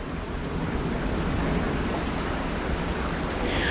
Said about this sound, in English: my weather forecast says it's raining